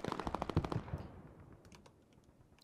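Rapid machine gun fire in the World War II shooter Hell Let Loose, a loud burst of quick repeated shots that breaks off and gives way to scattered, fainter distant shots.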